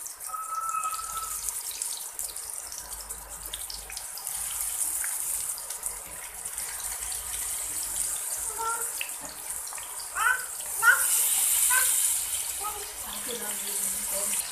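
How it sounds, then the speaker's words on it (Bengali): Chicken pieces fry in hot oil with a steady hiss and bubbling crackle, a few louder spits and stirring sounds near the end, under faint background noise. "এবার এগুলো আমি সবগুলো মাংস পাঁচ থেকে ছয় মিনিটের মতো ভেজে নিব"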